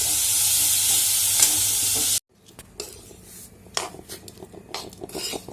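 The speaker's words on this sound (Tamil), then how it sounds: "திட்டமாக உப்பு சேர்த்து நம்ம மிக்சியில் அரைச்சி வச்சுருக்கோம் இல்லையா அந்த பொடியை சேர்த்து கிளறணும்" Ground spice powder with salt being stirred into tamarind paste in a pan, with a loud hiss up front, then a sudden drop to softer scraping and spoon-on-pan clatters that come in uneven bursts close by.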